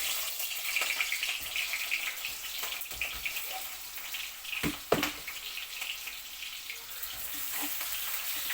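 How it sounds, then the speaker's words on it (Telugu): Chopped onions hit hot oil in a pan for vegetable rice, giving a steady, close sizzling hiss with a sharper crackling burst midway. "దాంట్లోకి ఫస్ట్ ఉల్లిపాయ వేస్తున్నాను."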